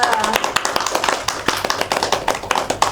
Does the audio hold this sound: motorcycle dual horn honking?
no